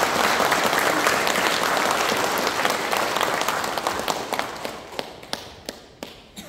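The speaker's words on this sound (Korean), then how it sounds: "우리 교도님들 합력의 박수를 한번 보내겠습니다" Congregation at a Won Buddhist temple ceremony installing new leadership bursts into sustained applause, dense clapping that gradually thins to scattered individual claps.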